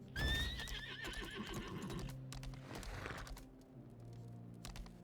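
A horse whinnies loudly with a rising, wavering call in the game Lost Ark, followed by steady clip-clopping hooves over a low, layered game-style background.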